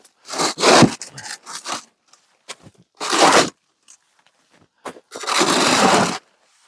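A snow pusher shovel scraping across an uneven paver pathway outdoors in snow, several loud rough scrapes in separate strokes with quiet gaps and small knocks between them, close and without talk.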